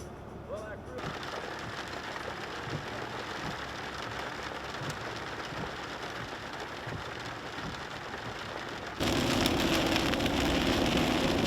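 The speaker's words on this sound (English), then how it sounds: "Still raining." Steady rain falls and patters continuously on Missouri public land, a dense hiss that grows louder and harsher toward the end.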